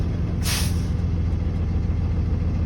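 A tractor-trailer's air brakes release a sharp, loud hiss of air during a slow stop at about 5 mph, over a steady low truck engine rumble that runs throughout.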